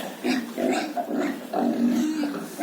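Pigs grunting in a steady run of low, rough snorts and grunts, close by and continuous, with no talking.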